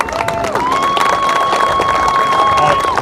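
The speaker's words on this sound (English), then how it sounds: "big round of applause for Mark" Outdoor crowd at a Little League parade claps and cheers for the outgoing league president, steady applause with whoops and chatter, a sustained whistle-like tone running through.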